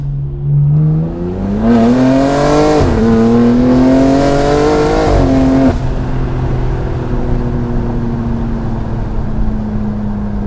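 A loud 700 hp BMW G80 M3 Competition engine revs hard through second to fourth gear, windows down, pitch climbing and dropping at each shift, then holding a steady roar at speed.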